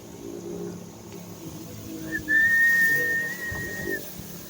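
Out in a crop field during Biosaka spraying, a person whistles one sustained, clear note lasting about two seconds, rising out of quiet outdoor background noise.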